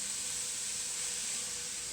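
Carrots and butter sizzling in a pan, a steady, faint, hissing fry with no talk.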